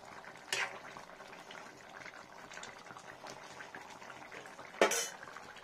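Curry bubbling gently in a pot as the heat is turned off, a steady soft simmer with a couple of louder splashy bursts near the start and end.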